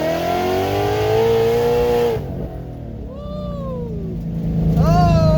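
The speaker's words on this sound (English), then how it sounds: "We floor it. I'm sure it's just going to spin out of control." A Ford Fairmont with a swapped-in Coyote V8 launches hard with spinning tires. Its engine screams up through rising pitches, drops briefly between shifts, then climbs again, loud and close, with tire squeal mixed in.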